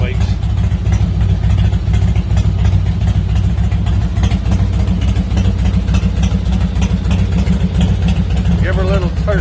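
A Harley-Davidson Heritage Softail motorcycle engine runs after a cold March start-up, with a loud, steady low idle thumping close by throughout and a few throttle blips near the end.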